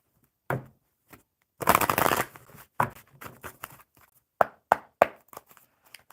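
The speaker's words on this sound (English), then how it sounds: "All right, so again, one more shuffle." A deck of cards being shuffled, with a long riffling burst followed by several sharp, separate snaps and taps of the cards, close and clear with no talking.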